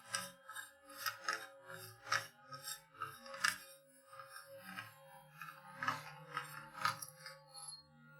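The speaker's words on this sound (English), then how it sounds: "Then unscrew the outer and inner barrels plus hop-up assembly." Threaded metal and plastic parts grind and rasp in short repeated twisting strokes as the outer and inner barrels of a Tokyo Marui VSR-10 airsoft rifle are unscrewed, close and fairly quiet.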